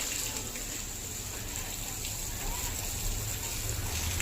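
A steady stream of water pours and splashes onto garden plants continuously at moderate volume, with outdoor hiss and no clear pauses.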